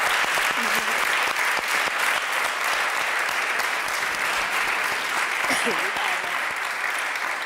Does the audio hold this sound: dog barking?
no